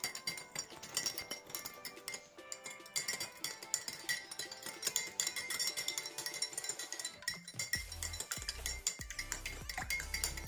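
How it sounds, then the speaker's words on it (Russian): Sugar is stirred into birch sap with a teaspoon, giving a rapid, continuous run of faint metallic clinks against the container that carries on throughout with no voices. "И размешивайте. Очень хорошо и тщательно, чтобы сахар весь растворился."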